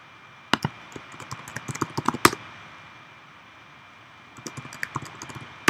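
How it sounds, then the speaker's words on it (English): Quick bursts of clicky keystrokes on a computer keyboard, two short flurries of typing separated by a quiet gap, close and fairly crisp. "I'll just have to type it in the chat here."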